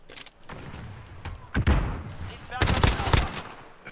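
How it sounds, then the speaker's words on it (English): Bursts of gunfire in a shooter video game, several loud clusters of shots around a wooden house, with a heavy volley near the end; a voice is faintly present underneath. "Shooting Charlie"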